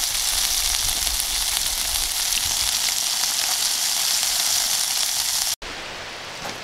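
Fish frying in beef fat on a camp cooker, a loud, even crackling sizzle heard up close, briefly cut off near the end before resuming more quietly.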